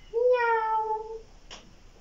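A human voice imitates a cat, giving a single drawn-out meow that is clear and close, followed by a faint short noise in an otherwise quiet room.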